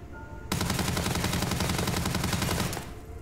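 A Starfield weapon that fires in a shotgun-like spread lets loose a loud, rapid, sustained string of shots for about two seconds, starting abruptly and stopping just as sharply.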